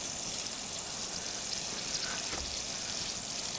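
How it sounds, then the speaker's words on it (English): A garden pump sprayer's nozzle is opened to flush clean water through the system, letting out a steady, even hiss of spray that runs unbroken throughout, close by and fairly quiet. "Open the spray nozzle here to"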